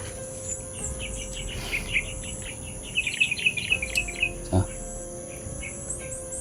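A bird gives a quick run of high chirps in the middle, over a steady background of insect buzz and hum.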